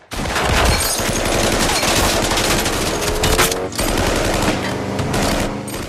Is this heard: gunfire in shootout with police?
yes